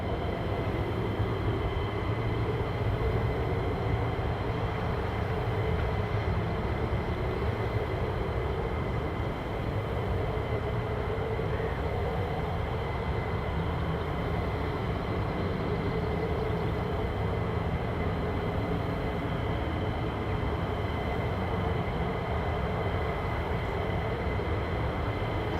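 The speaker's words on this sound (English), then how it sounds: "So these are F-15E Strike Eagles." Sustained, even jet engine roar from F-15E Strike Eagle fighters at RAF Lakenheath, a steady broadband rumble with a faint tonal whine holding for the whole stretch, no voices.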